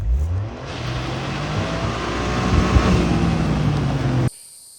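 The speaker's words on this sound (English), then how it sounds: "it's got a really cool sounding 3-cylinder turbo" A turbocharged three-cylinder Corolla hatchback with all-wheel drive and a manual gearbox revs loudly and close by, the engine note climbing steadily for about four seconds before cutting off abruptly.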